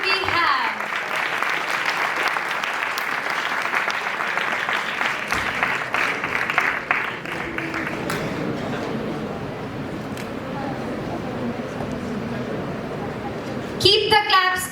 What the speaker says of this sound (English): Please give him a huge round of applause.